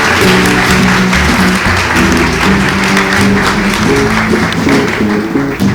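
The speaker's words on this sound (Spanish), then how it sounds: "un aplauso para cada uno de ustedes" A crowd at a Sephardic cultural event applauds, with loud, continuous clapping mixed with music that keeps playing underneath throughout.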